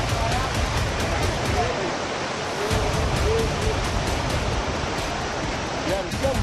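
Floodwater rushes through a flooded market street strongly enough to sweep away a parked car, making a steady, loud, broadband roar like heavy surf that continues without a break.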